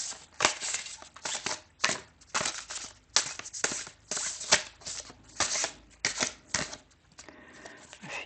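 Deck of cards shuffled by hand for a card reading, a rapid run of crisp riffling and flicking bursts repeating in an uneven rhythm, close up and alone.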